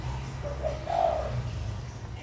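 A spotted dove (tekukur) gives a soft, somewhat weak coo, a short low call rising once near the middle, faint and alone over light background hum.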